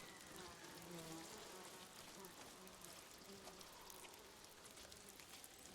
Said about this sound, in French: Ah, c'est les abeilles, ça.